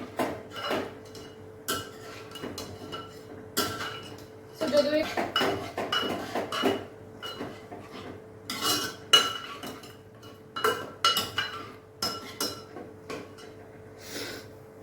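Vegetables, a milk-based pumpkin (kaddu) curry, being stirred into spices in a pan, giving repeated clinks and scrapes of utensil on cookware in irregular bursts, fairly close, with a little faint talk in the background.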